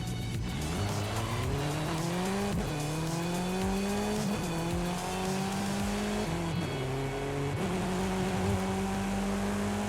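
A Mazda MX-5 in Forza Horizon 5 drives hard, its engine note climbing and dropping through repeated gear changes, steady and fairly close with no talk.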